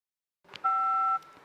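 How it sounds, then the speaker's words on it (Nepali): An old telephone's dialing tone: a single steady two-pitch electronic tone held for about half a second, fairly loud and clean, with faint clicks and handling noise before and after, no voices. "पुरानो त्यो फोन हुन्थ्यो नि डायल गर्दाखेरि जुन आवाज आउने त्यो डायलको"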